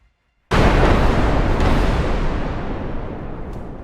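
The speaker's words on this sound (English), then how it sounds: "Bombs strike with deadly precision, leaving nothing but a bunch of dust in the air" Bombs dropped by F-16 jets hit a building with one sudden, loud blast, which rolls into a long, dense rumbling roar that fades only slowly; there are no voices.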